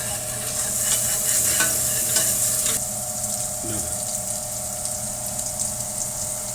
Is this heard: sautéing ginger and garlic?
yes